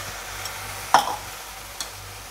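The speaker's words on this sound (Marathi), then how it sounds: "आता हे मिश्रण आपण सारखे ढवळत राहणार आहोत।" Jaggery tea mixture with tea powder and ginger being stirred in a pan, a soft steady simmering hiss with a couple of brief spoon scrapes against the metal, close up with no talking.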